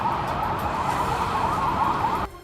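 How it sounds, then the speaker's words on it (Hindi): Pakistani army vehicles pass with emergency sirens wailing, a loud warbling tone held steady before cutting off abruptly near the end. "पाकिस्तानी सेना की गाड़ियां इमरजेंसी सायरन बजाते हुए गुजरती दिखी"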